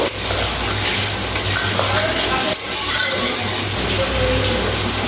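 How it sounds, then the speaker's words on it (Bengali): Water goes into a pan of soybean curry and the mixture is stirred, a loud, steady sizzle and bubbling with spoon scrapes and light clinks against the pan. "এবার আমি এর মধ্যে জল দিয়ে দেবো। নাড়িয়ে দেবো।"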